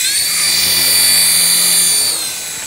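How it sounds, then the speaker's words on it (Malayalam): A toy helicopter flies nearby with a loud, steady high-pitched whine from its small motor and rotors, fading slightly toward the end. "നമ്മുടെ ഹെലികോപ്റ്റർ നമ്മൾ പറത്തി വിട്ടത് തിരിച്ചു വന്നേക്കാണ്"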